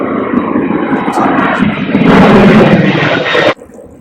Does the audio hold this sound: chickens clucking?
no